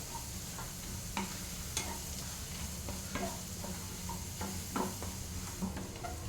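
Food frying in a pan with a quiet, continuous sizzle and faint periodic taps and scrapes of stirring, fairly soft and with no voices.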